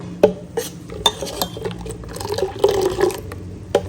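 Rinse water from a mixer jar poured into tambuli and stirred with a spoon in a steel pot, giving scattered clinks of metal on metal, soft liquid sloshes and scraping, close and alone without talk.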